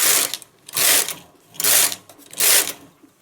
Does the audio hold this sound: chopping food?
no